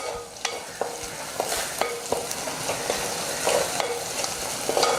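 Onions sautéing in oil in a clay pot for anchovy thokku, a steady broadband sizzle with repeated scraping stirs of a spoon against the pot at a loose, regular rhythm, close and moderately loud with no talking.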